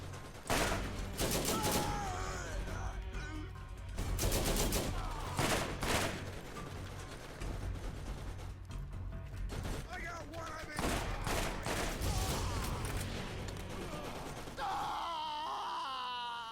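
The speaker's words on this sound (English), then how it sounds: "it's the machine gun killing me" Machine gun fire in Borderlands, rattling in loud, dense bursts that repeat for most of the stretch, mixed with other game combat sounds and a few brief vocal cries.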